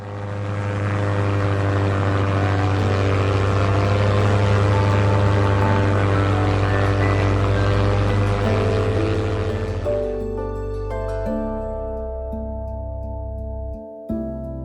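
Propeller airplane droning steadily overhead while dropping leaflets, a loud sustained engine hum with strong harmonic tones that shifts and thins partway through.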